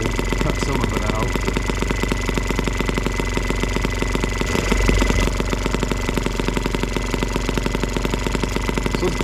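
An M12B engine running on alternative fuel idles steadily and close by with an even, rhythmic drone that holds throughout.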